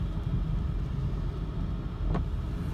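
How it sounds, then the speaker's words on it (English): A 1997 BMW 740iL's engine runs with a steady, low, rumbling drone. It stays fairly close and constant, with one brief higher click partway through and no talking. "Motor sounds great."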